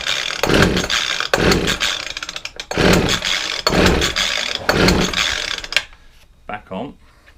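A discarded McCulloch hedge trimmer's small engine is pull-started repeatedly, giving a rhythmic series of about five loud rasping cranks and brief firing bursts, followed by quieter handling noises.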